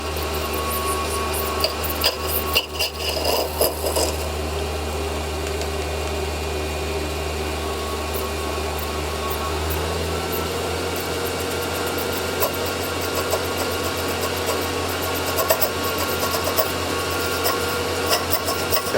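A metal lathe rough-turns a brass bar, giving a steady machine hum with continuous cutting hiss and scattered ticks, and the low motor tone shifts partway through.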